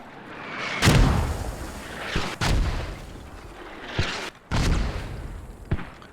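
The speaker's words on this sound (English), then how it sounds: "Mortars are better on target now." Mortar rounds land in a military video game match: five heavy booms at irregular intervals, each a sharp thump with a rumbling tail, with no speech.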